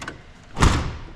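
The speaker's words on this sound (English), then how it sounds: "When the door latches" A single solid thump as a car door swings shut and latches, a short low-heavy impact with a brief rattle fading after it.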